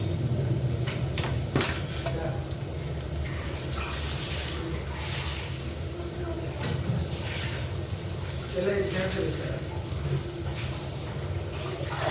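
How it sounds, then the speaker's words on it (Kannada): Onions sizzle steadily in hot oil in a home kitchen pan, a continuous frying hiss with occasional stirring clinks and a speaking voice over it. "ಎಣ್ಣೆ ಚೆನ್ನಾಗಿ ಕಾದಿದೆ ಈರುಳ್ಳಿ ಹಾಕಿದ ತಕ್ಷಣ"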